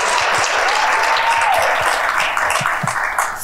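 An audience applauds at a community impact event, a dense, steady round of clapping that holds loud and continuous throughout, with a few sharper individual claps standing out near the end.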